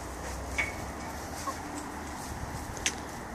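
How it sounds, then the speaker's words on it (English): Chickens being herded into their coop cluck softly at a moderate distance, a handful of short, scattered calls over faint background noise. "Herd the chickens."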